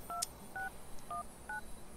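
Four quick telephone keypad tones beep in even succession as a Sim dials a phone in The Sims 3, clear and close over a faint background hum.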